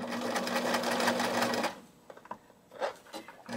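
A sewing machine runs loud and steady for about a second and a half while stitching the lining of a knitted wrist purse, then stops, leaving soft clicks and handling noises.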